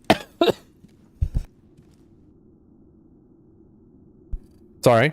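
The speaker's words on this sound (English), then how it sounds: "You heard the first cough" A few sharp coughs at the start, then quiet with a faint hum and a soft thump, before a louder burst at the end.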